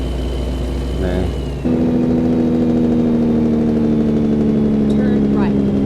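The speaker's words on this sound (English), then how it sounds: "this is the Kenworth W900" A Kenworth W900 truck engine hums in a steady, even drone from inside the cab, with a voice talking over it throughout.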